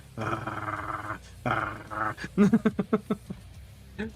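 A person imitates a puppy growling, with two long rasping growls followed by a quick series of short, choppy grunts and a final snarl, close and fairly loud.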